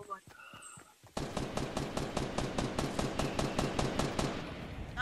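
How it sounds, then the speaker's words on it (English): Rapid automatic gunfire from a video game bursts in after a second of quieter sounds, then runs as a dense, steady rattle of shots close up, with a voice briefly present. "No, I'm shooting him."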